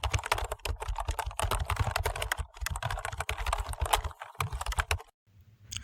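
Rapid, dense typewriter-style keystrokes clatter in an irregular stream, loud and close, stopping near the end, used as a typing sound effect for a handwriting animation.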